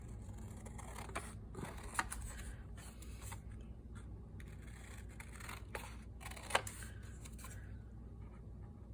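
Paper being cut with scissors while assembling a simple two-signature handmade journal, heard as soft crisp snips and rustling that stand alone at a fairly quiet level.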